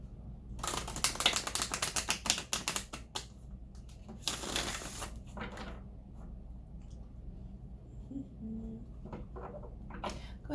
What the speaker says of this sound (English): Go ahead and shuffle a little bit.